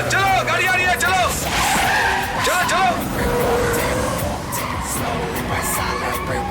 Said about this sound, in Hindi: चलो तेजी से चलो गाड़ी आ रही है।